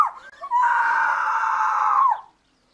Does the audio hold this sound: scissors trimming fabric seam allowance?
no